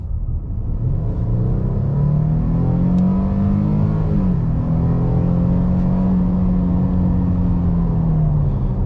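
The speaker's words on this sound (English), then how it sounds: "kind of just punch the throttle, see how the transmission reacts, and see how fast we get up to speed" A 2024 Nissan Frontier SV Hardbody pickup's 3.8-liter naturally aspirated V6 accelerates at full throttle from about 20 mph, a loud in-cabin engine roar climbing in pitch, dropping briefly at an upshift, then climbing again, with no talk.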